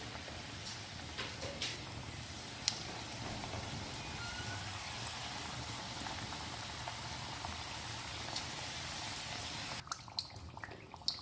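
Mutton spring rolls frying in hot oil give a steady, dense bubbling crackle that runs nearly unbroken for about ten seconds, with a few sharper pops near the start, then the sizzle thins out abruptly at the end.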